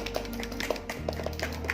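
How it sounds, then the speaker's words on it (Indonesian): A group of students claps together in a classroom, a quick run of light, evenly spaced claps at a fairly low level. "Yuk kita tepuk tangan dulu semuanya"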